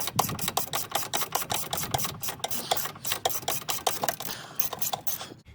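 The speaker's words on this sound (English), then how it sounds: "This one is right here at the bottom of the strut here, and then we just unscrew it." Hand tools loosening a 19 mm bolt at the bottom of a Mercedes suspension strut: a quick, steady run of ratcheting clicks up close, with no talking.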